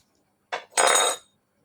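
A small whisk clinks against a bowl while stirring thickening custard for ice cream: two close, bright metallic rattles, the second longer, in near silence.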